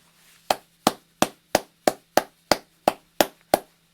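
A battle rap crowd gives a run of about nine sharp, evenly spaced claps, loud and close, with no talking over them.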